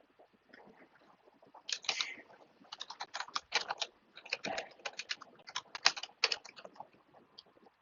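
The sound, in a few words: typing a password on a computer keyboard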